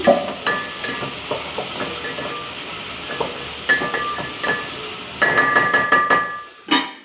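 Curry leaves hit hot oil in a pan while cooking a fish curry, giving a steady loud sizzle and hiss with scattered clinks and spattering pops throughout.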